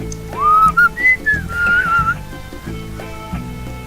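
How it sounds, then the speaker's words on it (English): A video game character whistles a name as a bright, wavering melodic phrase, loud and close. Sustained tones slide up and down over a soft game music bed, with no talking. "he keeps whistling back Chiara when I keep whistling Zaria."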